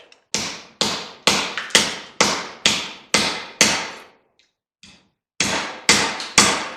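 Sharp, ringing hammer strikes land in a steady rapid series while breaking down a 225 amp circuit breaker for copper, a short pause with a couple of light taps, then more blows resume.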